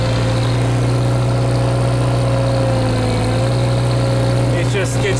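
A Mudd-Ox amphibious vehicle engine runs in high range while the machine skid steers its tires, giving a loud, close, steady droning hum with a brief scraping rattle near the end.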